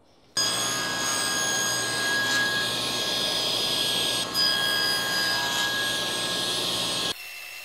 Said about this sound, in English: now to cut the 90-degree corners, I'm using my original sled